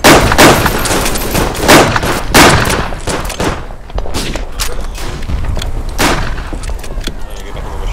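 Rapid gunfire in the Verdun video game: close, loud shots and bursts crowd the whole stretch, dense and overlapping with brief lulls between volleys.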